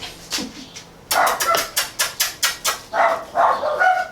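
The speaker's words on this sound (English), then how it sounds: "Of course they started barking as soon as we started." Dogs bark in a quick burst of about a dozen sharp yelps, close and fairly loud, with short gaps between them.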